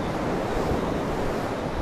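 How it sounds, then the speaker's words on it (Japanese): Wind roars steadily across the microphone during a bicycle ride along a coastal road near Hiroo town, coming from ahead at an angle, a dense, unbroken rushing noise with no voices. "どっちしろでも風が斜め前から来てるんですよ。"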